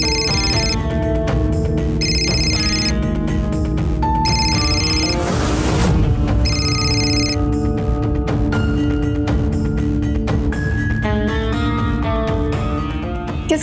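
A phone rings with a repeating electronic ringtone in bursts, layered over background music and ambient sound in a home setting, with the pattern broken briefly by a noisy swell midway.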